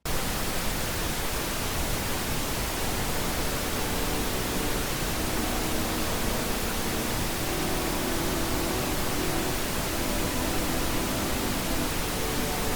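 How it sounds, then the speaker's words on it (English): Continuous pink noise fills the whole stretch, a steady, even broadband hiss with no breaks or changes. "with the pink noise playing in the background"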